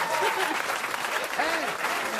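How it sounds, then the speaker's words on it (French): A radio studio audience applauds in a short, even burst of clapping. It holds steady throughout with some crowd murmur underneath. "Je crois qu'on peut les applaudir tous les trois."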